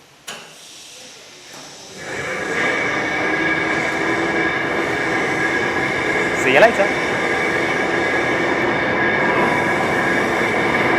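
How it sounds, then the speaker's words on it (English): An electric motor drives four power screws, one in each corner, to lower a railway wheeldrop table. It makes a steady, even mechanical drone with a faint whine that sets in and holds throughout, with a brief spoken farewell partway through. "the noise you can hear in the background is the motor behind me"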